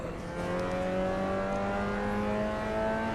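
A race car engine in the Assetto Corsa EVO racing game climbs steadily toward redline, a sustained loud rising whine with no speech.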